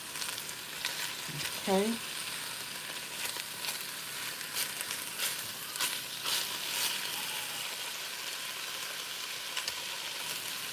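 Italian sausage sizzles steadily in a pan, a continuous close crackling hiss throughout, with a brief spoken word near the start.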